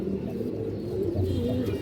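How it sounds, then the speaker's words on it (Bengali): An old breeder red Muslam pigeon gives a continuous low, throaty coo, close and steady over a constant background hum. "পুরান ব্রাডার লাল মুসলম কৌতার"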